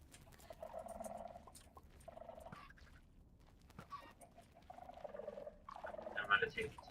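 Chickens in a hardcore survival video game give repeated clucks and gobbling calls in several bursts, fairly quiet and close, with brief clicks between them.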